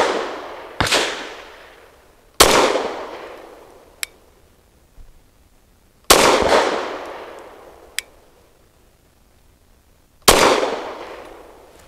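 Caracal Enhanced F pistol firing Federal Syntech 138 grain rounds: four loud, sharp reports at irregular intervals, each ringing out with a reverberant tail, plus a couple of faint clicks in between, with no talking.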